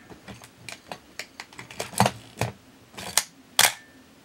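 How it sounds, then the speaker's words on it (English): Film advance lever on a Honeywell Pentax Spotmatic 35mm SLR worked through a series of crisp mechanical clicks and ratchet ticks, a few louder snaps near the end, close and alone. "Let's watch the film advance."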